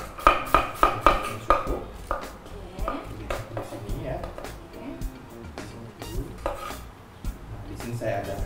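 Cabbage being sliced thinly with a knife on a board for an Indonesian coleslaw, giving a quick run of crisp chops at first, then slower scattered cuts, close by under intermittent talk.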